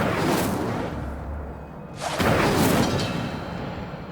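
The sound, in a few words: Incendio fire spell cast in the Hogwarts Legacy video game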